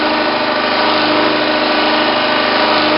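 Steady loud mechanical whine and hum of an alternator test rig running at 1500 RPM, constant and close with no change in pitch, heard alone.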